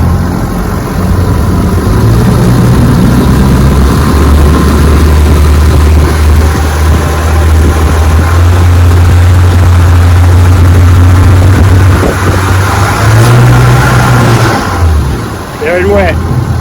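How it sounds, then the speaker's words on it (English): A 1958 Johnson FD-12 18 HP outboard motor roars loud and steady as the throttle opens, climbing to high RPM with a deep continuous drone before easing off near the end. "If you watch the motor while you give it the gas, it takes off and then it just goes into high RPM."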